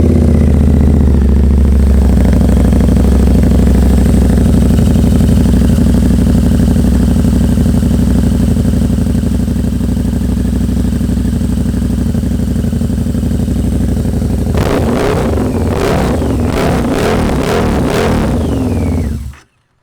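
A 2014 Harley-Davidson V-Rod Muscle motorcycle engine runs at a steady, loud idle close by, then revs in several sharp bursts near the end before cutting off.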